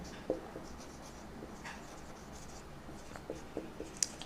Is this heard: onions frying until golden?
no